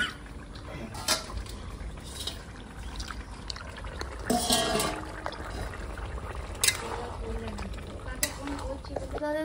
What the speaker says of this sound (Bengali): আলু বেগুন আমার আলু সেদ্ধ হয়ে গেছে, এবারে মাছটা দিয়ে দেবো